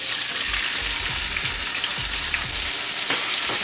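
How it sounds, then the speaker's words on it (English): Half a cup of oil on high heat roars loudly with one medium chopped onion frying in it for shrimp curry. The close, dense crackle is steady, with occasional low stirring bumps. No talk. "Oil is now hot and I'm going to put 1 medium onion chopped up."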